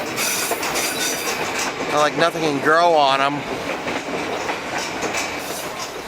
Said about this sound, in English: I just love watching the train move to the railing, or the rails.